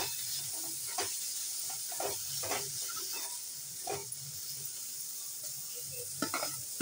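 Crumbled paneer sizzles with red chilli powder and coriander in a pan, giving a continuous soft hiss broken by several sharp stirring scrapes and clicks.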